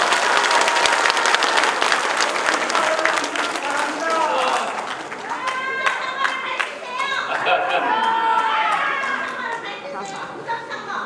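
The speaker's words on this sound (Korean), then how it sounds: "안철수 후보님 여러분 큰 박수로 맞아주세요" Crowd at a political rally in Gangseo-gu applauding the arrival of party leader candidate Ahn Cheol-soo, sustained clapping mixed with cheering and chatter, with voices rising above it midway.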